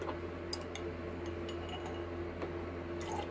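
Fertilizer concentrate stirred into about a litre of water for orchid care, with a spoon clinking faintly against glass a few times over steady quiet background noise, no talking.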